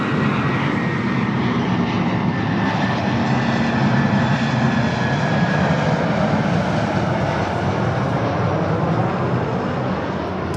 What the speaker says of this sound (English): Delta A319 up next for arrival here on the north side of runway 24 right.